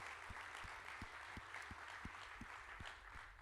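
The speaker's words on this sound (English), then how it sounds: "would you give them just a round of applause for their service?" A church congregation at a members meeting applauds its departing deacons, soft, steady, distant clapping with a regular low thump recurring about every third of a second beneath it.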